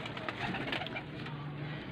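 A pigeon gives a soft, low cooing call, faint and brief, against a hissy background with no speech.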